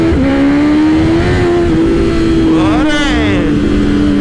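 German motorcycle pulling away at the start of a ride, a loud engine tone rising and holding at high revs with a brief whining surge partway through, while someone speaks over it.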